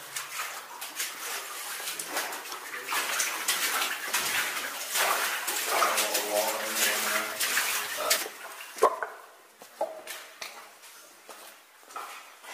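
Water splashes and sloshes as someone wades through a flooded underground mine passage, a continuous churning wash that grows busier midway and then breaks into scattered, separate splashes.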